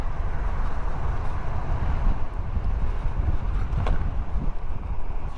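Steady, loud wind rush buffeting the microphone while riding an AON Glide MAX electric scooter at speed, a continuous low roar with no talking.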